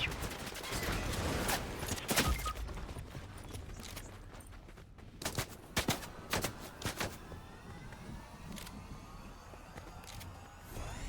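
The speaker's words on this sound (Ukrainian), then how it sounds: "Хто стріляє?" Gunfire in Fortnite Reload crackles in scattered bursts of sharp shots, some single and some in quick clusters, over a low game ambience with no talking.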